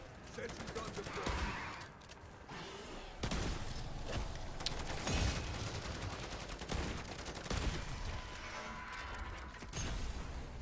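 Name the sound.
sentry gun firing in MW3 Zombies video game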